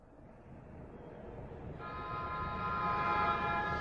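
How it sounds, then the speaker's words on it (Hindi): A small children's toy-like train moving in a Doraemon cartoon: a soft rumbling run that swells gradually, then a sustained tooting horn tone joins and grows louder toward the end, with no speech. "हम छोटे बच्चों की ट्रेन की तरह क्यों चल रहे हैं?"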